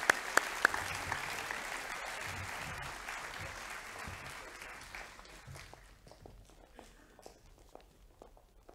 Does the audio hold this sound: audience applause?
yes